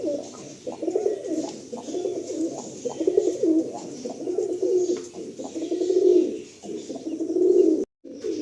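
Tournament-quality pigeons cooing in a loft, a steady run of soft, repeated throaty coos close by, rising and falling in rhythmic phrases with no talk.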